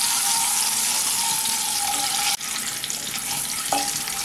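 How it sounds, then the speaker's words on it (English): Eggs roast in hot oil in a pan, giving a steady close crackling sizzle for a few seconds, briefly dipping midway then continuing with no speech. "Heat oil in a pan and roast the eggs."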